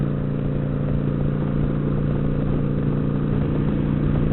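Kawasaki Vulcan 900 Classic LT cruiser motorcycle in top gear around 2,500 RPM, a steady buzzy engine drone with wind noise, constant and close throughout.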